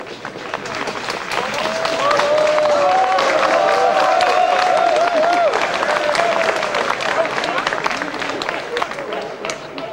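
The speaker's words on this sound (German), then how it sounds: "Beifall für den SVT im Oktober" Steady applause and crowd noise from many onlookers greet the SVT diesel railcar VT 18 16 at the October 1998 anniversary of the Schiefe Ebene incline, sustained and fairly loud, with voices mixed in.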